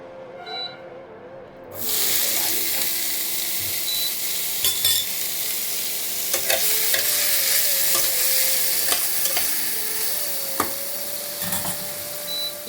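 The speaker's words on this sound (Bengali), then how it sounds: "আলু কেটে রেখে আলুটা ভাজা করব ওরা এই যে ফোড়ন দিয়ে দিয়েছি" Whole spices tempering in hot oil with cut potatoes added to fry in a home kitchen pan, a sudden loud sizzle that settles into a steady hiss with clinks of stirring.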